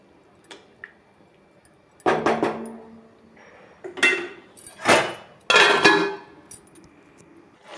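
Semiya upma being stirred in a pan, several separate bursts of scraping and squishing spoon strokes with metallic clinks, close and fairly loud, separated by brief quiet gaps.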